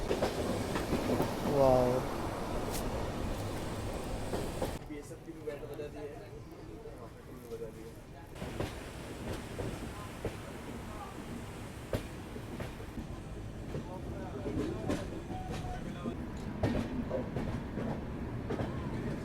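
A passenger train rolls through the rainy Western Ghats on the Bengaluru to Goa route, approaching Castle Rock station, with steady rumbling wheel clatter and rail noise throughout; a voice talks over it and briefly exclaims.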